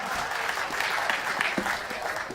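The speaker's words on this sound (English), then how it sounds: "Ladies and gentlemen, round of applause for Fur." Dense clapping from an audience at an ESL One 2015 Katowice Counter-Strike qualifier match, steady and sustained throughout, with no voices standing out.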